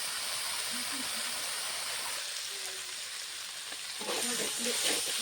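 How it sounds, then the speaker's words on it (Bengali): Vegetables fry in a pan with a soft, steady hiss and sizzle, with faint voices heard briefly near the start and again toward the end. "সবজিটা এখন ভেজে ভেজে নেব"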